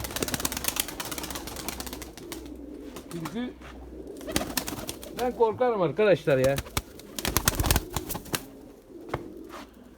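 White Erzurum pigeons cooing in their loft, soft throaty coos rising in the middle amid wing flutters and rustling, with someone talking intermittently nearby.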